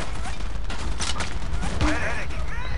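Rapid gunfire from an American rifle set to three-round burst in the game Battlefield 2, dense and continuous over battlefield noise while someone talks.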